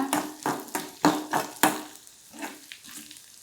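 Green chillies fry in a pan for a tomato onion chutney, with sizzling broken by repeated stirring scrapes in an uneven rhythm, close and fairly loud.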